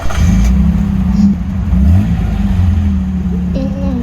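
A 1967 Toyota 2000 GT engine in the Roblox game Driving Empire revs steadily and loudly for about four seconds, a sustained mid-pitched drone with a brief rise near the end.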